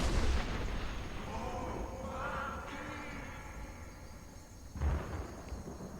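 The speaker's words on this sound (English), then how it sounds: "Well, that was certainly some ominous thunder." Ominous thunder in the video game Skyrim: a low, heavy rumble that rolls on for several seconds, fades, then swells again briefly at the end, with no one speaking.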